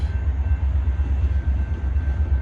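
A CSX freight train rolls past in Plymouth, a loud, steady low rumble of wagons close by with a faint high whine above, continuous throughout with no talk.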